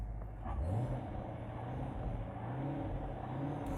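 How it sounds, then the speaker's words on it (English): A 2014 Corvette Stingray runs with its exhaust in touring mode, giving a muted, steady engine drone heard from inside the car as revs rise gently and hold, with no one talking. "So if you don't want to hear the exhaust, it's great, put in touring."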